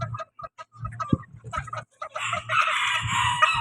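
Bantam chickens at Chatuchak market cluck and call in short bursts before a rooster lets out a loud, drawn-out crow close by.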